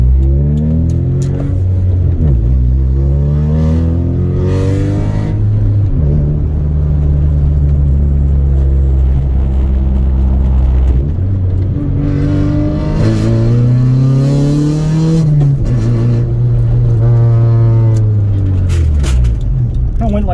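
A Honda Integra DA with an OBD1 conversion, its engine revving hard at wide open throttle, loud and close inside the car, pulling up through the gears with drops at each shift, while someone speaks over it.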